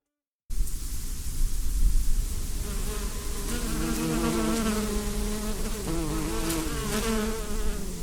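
Bees buzz steadily around a close microphone in an outdoor setting, a dense droning hum with individual insects rising and passing nearby, continuous with no voices.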